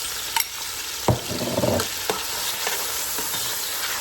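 Garlic frying in oil for steamed cabbage and saltfish, a steady close sizzle with a few sharp utensil scrapes and clicks against the pan, no voices.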